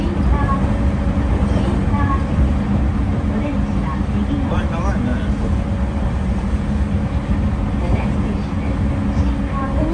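A long JR Freight train hauled by an EF66 electric locomotive rumbles past with a steady low roar and clanking, continuous and fairly loud throughout, with occasional squeals over the drone.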